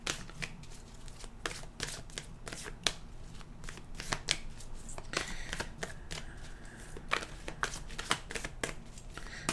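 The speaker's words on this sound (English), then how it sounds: "Let's shuffle the cards here fast." Tarot cards shuffled rapidly and repeatedly, a steady stream of crisp riffling snaps up close, with no talking.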